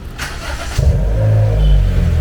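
A Honda City GM6 car engine starts up and runs to warm up, its steady low rumble close and loud with no talking.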